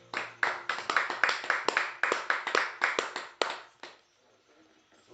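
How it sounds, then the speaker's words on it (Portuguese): A congregation at a church cell-group worship meeting claps together in a brisk, roughly even beat, the hand claps close and crisp, then stops abruptly into near silence. "Dá mais uma salva de palmas para Jesus."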